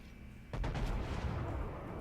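Battleship main guns firing in World of Warships, with a Kongo-class battleship involved: a heavy booming salvo bursts out after a quiet moment and rumbles on with several close cracks before tailing off.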